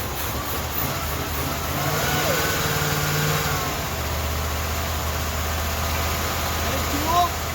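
A Ford LTD's engine, its distributor timing just advanced, runs with a steady mid-range drone that swells as it revs around two to four seconds, then settles to an idle, with voices and a brief clatter near the end.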